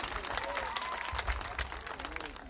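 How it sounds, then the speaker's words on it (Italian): An audience applauds at an outdoor summer singing event in Montallegro, producing a dense, steady patter of clapping hands that stays fairly even throughout, with faint traces of voices underneath. "Facciamo un altro applauso ad Arianna"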